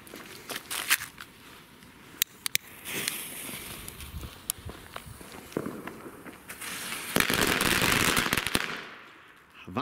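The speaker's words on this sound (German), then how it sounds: "So und nicht anders müssen Knallketten von der Brennzeit sein" A Lesli Dragon Cracker 90 firecracker string crackles through a long burn, with rapid irregular bangs and pops that build into a dense roaring crackle before stopping abruptly.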